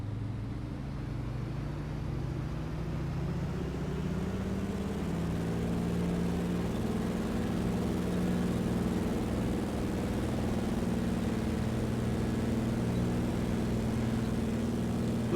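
DHC-2 Beaver floatplane engine in a flight simulator running at takeoff power, a steady droning piston roar with low hum that swells slightly and holds without pause, no voices over it.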